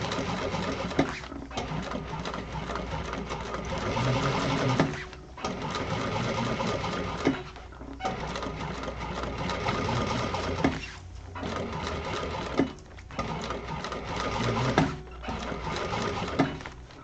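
A sewing machine stitches a handbag strap during an interiors sewing class, running in long continuous bursts with brief stops between them, loud and close.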